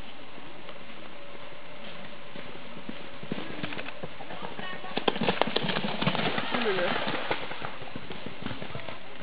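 Pony hooves clip-clopping steadily during cross-country riding, moderately close, with a rider's voice and occasional outdoor noise in the background.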